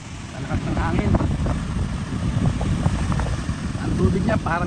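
Strong wind buffets the microphone at Imperial Beach in San Diego, California, roaring steadily over large crashing waves in cold weather, with people talking over it throughout.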